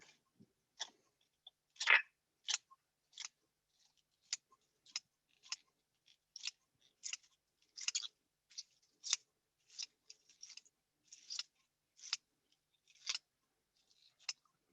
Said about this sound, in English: I'm just going to use some scissors.